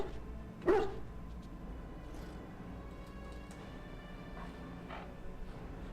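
A single short, faint dog bark from the video game Dragon Age: Origins rises over a low, steady ambient hum, followed by quiet game background.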